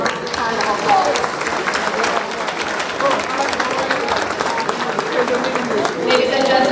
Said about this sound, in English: Please join me in giving them a warm hand of applause.